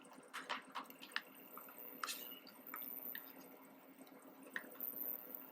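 Thick tomato paste poured into a frying pan for a meatball sauce, giving soft wet drips, splats and squelches close by over a quiet background, without voices.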